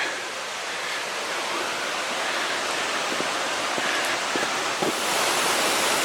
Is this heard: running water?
yes